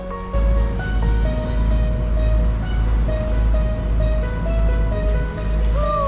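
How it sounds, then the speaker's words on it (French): A ferry at about 32 knots passes at sea off Tenerife, a loud steady rush of waves and wind with a low rumble, over faint background music. "Nous croisons un traversier qui va à peu près à 32 nœuds."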